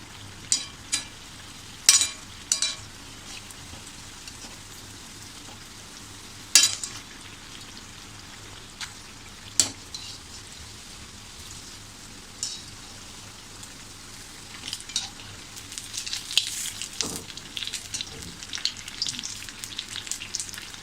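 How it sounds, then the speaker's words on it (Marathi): Egg cutlets frying crisp in a pan, a faint steady sizzle with scattered sharp pops and crackles that grow busier toward the end. "हे बघा, छान असे खरपूस भाजून घ्यायचे."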